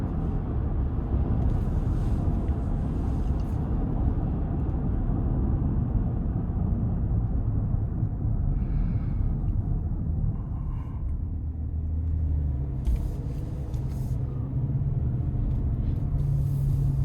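Steady low road roar and wind rush inside a 2026 Chevy Suburban High Country 6.2 on 22-inch wheels, cruising down an interstate, continuous and even throughout with no talk.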